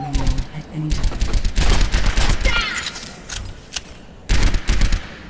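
Rapid bursts of gunfire in the video game Overwatch, loud close repeated volleys with brief pauses between them, dense and continuous over most of the stretch.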